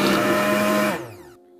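A kitchen blender mixes mango with sugar for a milkshake, a loud whirring motor that runs briefly and then quickly winds down to a stop.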